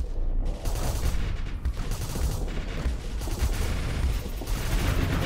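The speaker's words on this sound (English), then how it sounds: "Whole missiles are hitting you." Missiles slam into a ship during a Starsector space battle, a dense, continuous barrage of blasts and rumbling impacts that stays loud and busy throughout.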